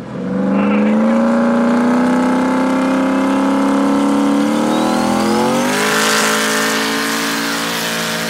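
A 2000 HP boosted Coyote race car engine on Holley running at a track, loud and near, revving up steadily in one long pull with rising tone and a brief shift near the end.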